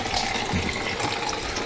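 Water runs continuously from household pipes as the lines are flushed out, giving a loud, steady rushing hiss with no pauses and no talking.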